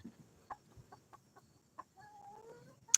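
Backyard chickens clucking in a few short, scattered calls at close range, with a brief higher squawk near the end, alone without any talk.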